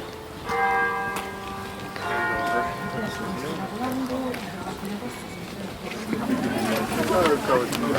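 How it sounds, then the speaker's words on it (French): Church bells ring out with clear repeated tolls, fairly near, while a person talks over them and outdoor sounds continue underneath. "Moi, j'adore les cloches des églises."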